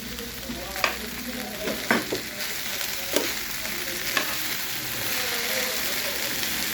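Broad beans and potato stir-fry sizzling in a pan as a spoon stirs it, with several sharp scraping knocks against the pan over a constant close frying hiss.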